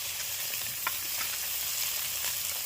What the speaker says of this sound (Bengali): লাল করে সুন্দর করে ভাজা হয়ে গেছে।